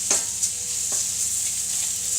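Bacon and mushrooms frying together in a pan, giving a steady, even sizzle at close range, with a few soft clatters as the food is moved around and no voices.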